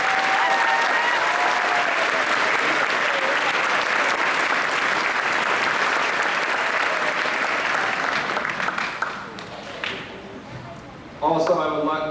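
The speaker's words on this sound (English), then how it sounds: "I'd like to give them a round of applause," An audience at an 8th grade graduation ceremony applauds the 8th grade teachers with loud, dense clapping that holds for about nine seconds, thins and fades, and then gives way to a voice speaking.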